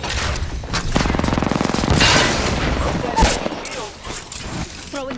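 Rapid gunfire crackles through a team shooter video game, with dense bursts and heavy booms up close while players talk over the shooting.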